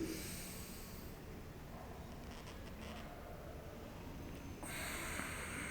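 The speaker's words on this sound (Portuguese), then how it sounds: "Aí você inspira." A slow, deep breath drawn in through the nose during a guided breathing and meditation exercise, a soft, steady airy hiss lasting several seconds, close and quiet, with no talking over it.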